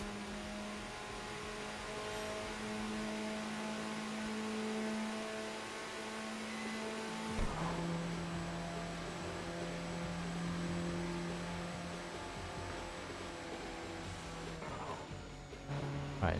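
A race car engine in the Tokyo Xtreme Racer video game holds a steady, droning roar under nitrous boost, with a shift in pitch midway and a brief surge near the end. No voices are heard.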